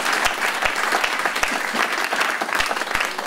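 A church congregation in the DR Congo applauds the word of the Lord with sustained, lively clapping that continues throughout, with a few sharper, louder claps standing out.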